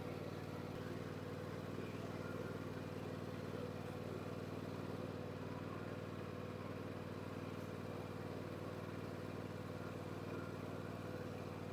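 A vehicle drives slowly along a flower field's perimeter, its engine a steady, droning hum with a constant low tone that holds unchanged throughout.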